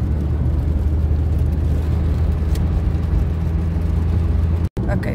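A car is heard from inside while driving, a steady low rumble and road hum filling the cabin, with a brief dropout near the end and voices under it.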